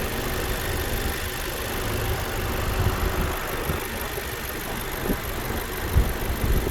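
Range Rover Evoque with a 2-liter Ingenium engine idling, a steady low mechanical hum and faint rattle heard close up, constant and even with small bumps, no one talking.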